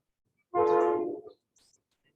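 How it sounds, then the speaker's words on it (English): A train sounds in the distance near an outdoor yoga session, a single sustained horn-like blast lasting under a second, moderately loud, then near silence. "You might hear the train"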